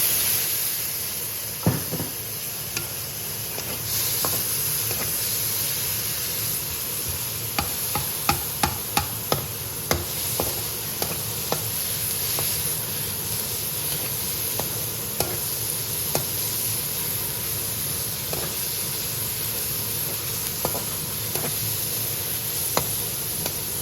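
Onion, garlic and ginger paste frying in a pan while being stirred, with repeated scraping and clinking strokes of a spoon over a continuous, close sizzle and hiss.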